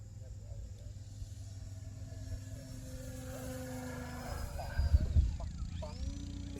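An E-Flite Ultimate 3D RC plane buzzes at a distance like an insect, its motor tone building and then bending downward in pitch as it sweeps past on a flyby. The whine is thin and moderately faint over outdoor background noise.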